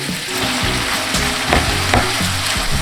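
Thin-sliced pork belly with minced garlic stir-fries in a pan, a steady close sizzle with crackling spits and a few louder pops as the meat is tossed.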